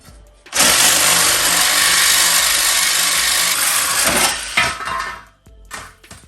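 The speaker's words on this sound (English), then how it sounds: "I should really get in there with the Sawzall and cut in between there with the Sawzall." A Sawzall reciprocating saw cuts off a bolt head during fuel pump removal on a 1982–92 Chevy Camaro or Firebird, a loud continuous buzzing rasp that runs for about four seconds, then stutters and stops.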